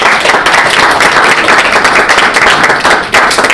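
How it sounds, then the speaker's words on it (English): An audience claps after a talk at a panel event on Ukraine, a dense, steady round of applause from many hands without speech. "Can you hear them clapping for you?"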